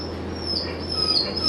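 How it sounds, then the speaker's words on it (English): A dog gives a thin, high, drawn-out whimper, fairly faint, over a steady low room hum, with no one talking. "What's up, dog? come here. Come here."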